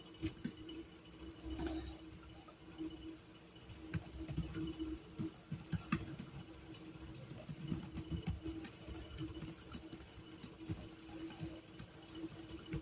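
Computer keyboard typing while writing a letter in MS Word: a steady stream of light, rapid key clicks close up over a constant low electrical hum.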